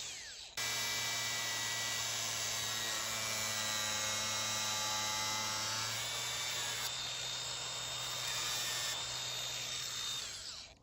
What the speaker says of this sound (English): I'm going to just nip the top off these with an angle grinder